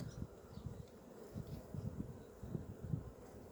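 Honey bees hum at a hive in spring, a low steady buzzing drone with small fluctuations, fairly faint and continuous throughout.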